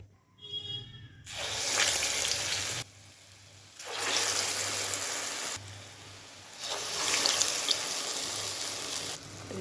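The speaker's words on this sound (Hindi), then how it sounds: "और इसको हम फ्राई करेंगे।" Medu vada batter rings slipping into hot oil and frying, a loud steady hiss that swells in three long bursts with brief quieter gaps between.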